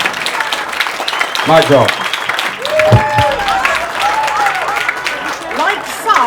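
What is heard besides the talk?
wedding guests applauding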